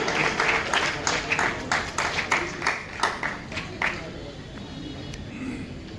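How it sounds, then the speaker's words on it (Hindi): Crowd clapping for a student receiving a topper's certificate at a community hall ceremony, a loud run of sharp claps that fades out toward the end while a voice talks over it. "जोरदार तालियों में कोई कमी ना हो, एक बार जोरदार तालियों से"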